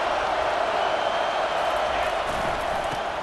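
Stadium crowd roaring in EA Sports College Football 25, a dense, steady wash of cheering noise held at constant loudness with no breaks.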